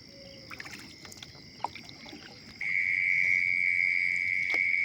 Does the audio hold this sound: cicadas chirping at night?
yes